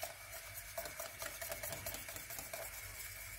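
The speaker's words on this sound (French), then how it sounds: "Et bien mélanger." A spoon stirs crème anglaise thickened with cornstarch in a saucepan, making a soft, continuous scraping and swishing with faint rhythmic strokes under a steady background hiss.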